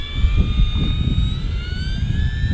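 An E-flite RV-7 electric RC airplane makes a slow pass, its motor giving a thin steady whine that slowly drops in pitch as it goes by, heard outdoors over low wind rumble.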